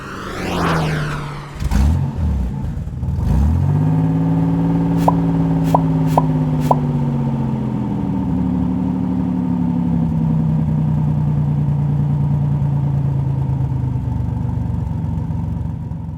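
A 1984 Chevrolet Corvette engine gives a low, steady grumble at idle after a quick rev and start, with a few sharp clicks partway through, loud and close with no talking.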